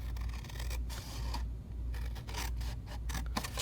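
Scissors cutting straight down through paper for a Stampin' Up! box lid, a few short crisp snips and slides close by with no talk.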